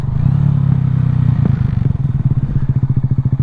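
A cheap Honda Grom motorcycle with a blown left fork seal runs up close, a steady low engine drone that breaks into a rapid, choppy putter as it settles toward idle.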